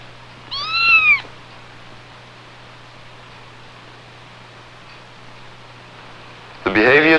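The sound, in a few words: cat meowing after a drug is injected into its brain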